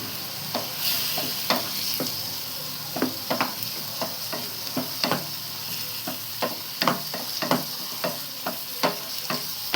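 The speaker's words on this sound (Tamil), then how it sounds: "கால் மிளகு தூள் போடலாம் நல்லா வதக்கிடலாம்" Pepper powder is sautéed in a pan as the base for a dry fish curry, with a continuous sizzle and repeated sharp spoon scrapes and clinks against the pan, close and distinct.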